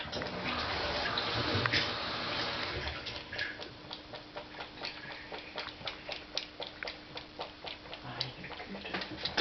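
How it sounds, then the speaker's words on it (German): Cat lapping water from a drinking glass, producing a quick series of soft, rhythmic ticking laps close to the mic, preceded by a few seconds of louder rustling background. "so hörte sich das an, als er aus meinem Wasserglas trank."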